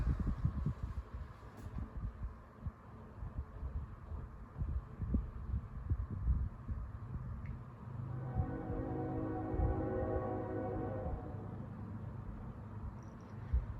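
A Lasko Galaxy 12-inch oscillating fan runs on low speed, giving a steady low hum with a soft throbbing pulse that holds throughout, a little fuller in the latter half.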